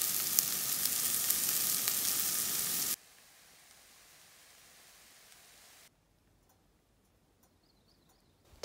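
A Southwest tofu breakfast scramble sizzles loudly in a pan for about three seconds, then cuts abruptly to a much quieter steady hiss and finally to near silence.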